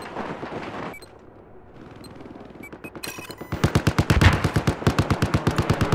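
A vehicle gunner fires a machine gun in the video game Battlefield 4, with scattered shots and game effects first, then rapid, regular bursts of loud, close gunfire in a steady rhythm.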